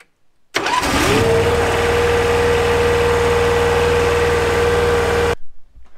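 A John Deere 83 engine fires up and settles into a loud, steady running drone with a constant tone, close by and uninterrupted until it cuts off near the end.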